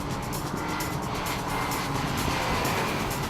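A Nissan 370Z with a 7-speed paddle-shift automatic drives past with a steady, broad engine and road roar. The sound stays constant and loud, with no talk.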